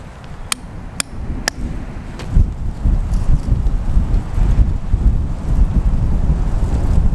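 Wind gusts across a winter campsite where a large bell tent is being pitched on frozen ground, a loud, close, low rumbling buffet on the microphone after a few sharp clicks at the start, with no one speaking.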